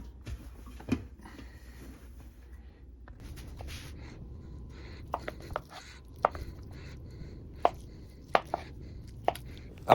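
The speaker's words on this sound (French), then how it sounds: "on va couper tout le fromage en carré à peu près 1 cm de large" A knife cuts through fresh cheese curds for poutine cheese, soft irregular taps and slices, then a run of sharper clicks against a board as the blade works across in squares, close and quiet.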